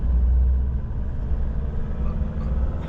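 A 2025 Mitsubishi Montero Sport with a manual gearbox idles at about 700 RPM, giving a low, steady engine rumble heard from inside the cabin, with no talking.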